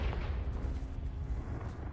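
A rumbling, booming explosion of the fire-blast Confringo spell in the video game Hogwarts Legacy, loud and deep, rolling continuously for about two seconds.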